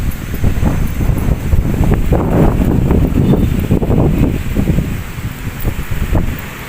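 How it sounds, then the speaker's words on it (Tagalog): Steady wind gusting across an open microphone at Manila Bay, a dense low rumble with faint rustling, continuous for several seconds without any talk. "mahangin siya."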